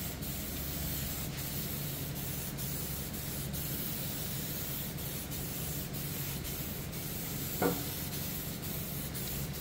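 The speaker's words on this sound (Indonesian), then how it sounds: "Kita semprot memutar secara merata seperti ini sampai primer grey-nya ini benar-benar menutup dengan sempurna." A spray gun steadily hisses grey primer onto a motorcycle CVT cover in a continuous, even mist, with faint periodic ticks and one small click near the end.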